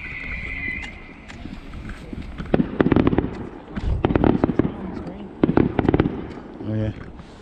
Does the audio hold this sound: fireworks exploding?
yes